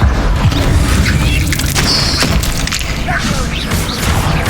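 Fire spell blast in the Hogwarts Legacy video game, a burst of booming, crackling impacts amid continuous loud combat noise, with a voice shouting over the action.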